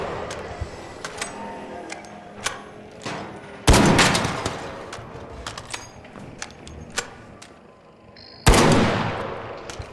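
Gunfire in ARC Raiders, with scattered sharp shots and thuds throughout and two loud, close blasts that decay slowly.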